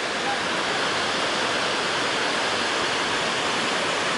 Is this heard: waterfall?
yes